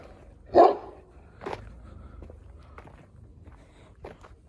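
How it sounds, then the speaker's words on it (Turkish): A single loud dog bark up close on a farm, followed by quieter shuffling footsteps and faint rustling, with another soft bark-like sound later. "Burada da güzel bir köpek var."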